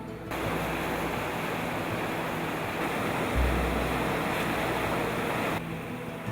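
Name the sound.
fast-running water in Peril Strait, Alaska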